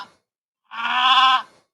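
A sheep sound effect plays as one clear, wavering bleat lasting under a second, loud and close, after a short faint blip and then silence.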